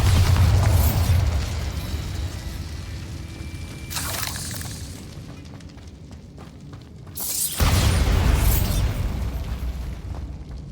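A Bombarda blasting spell explodes in Hogwarts Legacy, with two loud, booming bursts several seconds apart and a rumbling tail between them.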